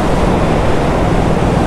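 Floodwater of a swollen river in Uttarakhand surging hard, a loud, dense, steady roar of rushing water with no pauses and no voices over it.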